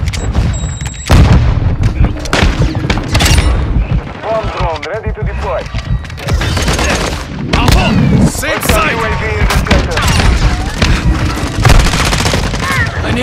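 Loud, chaotic gunfire in Call of Duty: Modern Warfare II, with bursts of automatic fire, explosions and booms layered with radio callouts and a player's voice throughout.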